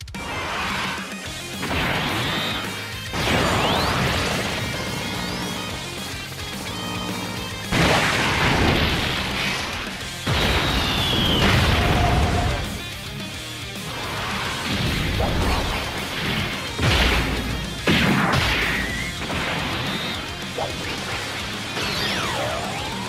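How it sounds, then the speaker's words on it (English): Golden Frieza's super attack animation in Dragon Ball Z Dokkan Battle, a loud, busy sequence of repeated crashes, booms and whooshing energy blasts with music underneath, continuing for over twenty seconds. "Now let's take a look at Golden Frieza's super attack animations and his exchange with Gogeta"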